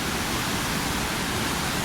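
Rushing water where the Swat and Kalam rivers meet in Pakistan's Swat Valley, a steady, loud broadband roar with no breaks and no voices.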